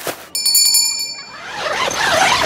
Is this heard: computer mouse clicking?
no